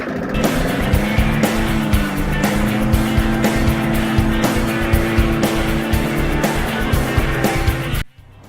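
A car engine revs loud and steady as it accelerates on the gas, a low droning tone with rising harmonics and sharp transient clicks throughout, cutting off abruptly near the end.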